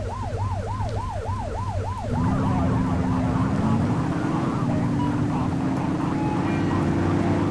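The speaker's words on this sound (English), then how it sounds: "You're only meant to use the siren in emergencies." A wailing siren whoops up and down in quick cycles, then fades under a loud engine drone that rises in pitch, as in a driving game.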